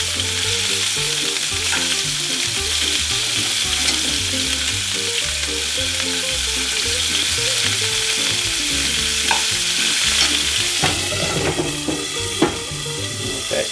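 Pork fried rice stir-frying in a pan, a loud continuous sizzle with scraping and tossing from a utensil close up, and no talk.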